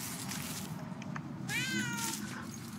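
A cat meows in the video game Murdered: Soul Suspect, one drawn-out, wavering cry partway through. It is set against a muffled, steady ambient background, with no talking.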